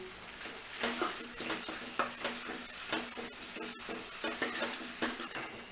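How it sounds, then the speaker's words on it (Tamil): Onion and tomato sizzle and hiss in a hot pan while a spoon stirs and scrapes in regular strokes, close up, with no talking. "ஒரு பெரிய வெங்காயம் இதை நல்லா வதக்கிக்கலாம் இதில் ஒரு தக்காளி"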